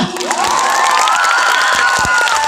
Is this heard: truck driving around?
no